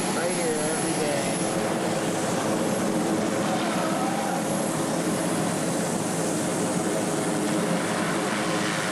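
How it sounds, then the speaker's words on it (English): A loud aircraft roar fills the whole stretch as it passes close overhead, steady and broadband, with no talk over it; the rotor chop of a helicopter is not distinct. "here comes a helicopter"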